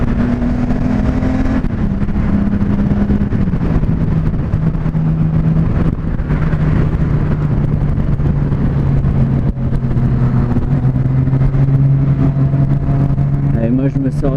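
Exhaust note of a 2018 Honda Goldwing bagger motorcycle while riding, a steady droning engine hum with shifting pitch as the bike changes speed, loud and continuous throughout, with wind noise and a voice talking over it.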